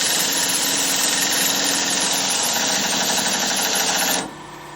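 An impact wrench runs on a wheel stud of a rotten 1956 chop-top oval-window VW Beetle. It gives a loud, steady, buzzing hammer that carries on for about four seconds, then cuts off to quiet.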